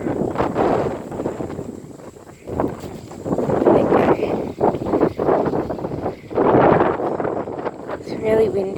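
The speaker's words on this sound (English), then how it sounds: "It's really windy today." Wind buffets the microphone on an outdoor walk on a windy day, a loud, gusty rumble that swells and drops repeatedly throughout.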